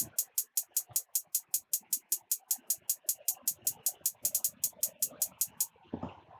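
Programmed 808 hi-hat pattern in FL Studio: a rapid, steady run of crisp ticks with a few quicker rolls, over a faint low murmur, ending in a brief thump.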